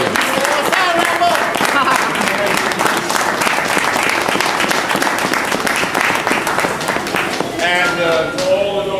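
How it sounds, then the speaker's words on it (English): A crowd at the Guardian Angels 36th anniversary event claps loudly and steadily for Rambo, dense applause sustained throughout with voices and cheers mixed in underneath. "Let's give a nice round of applause for Rambo here."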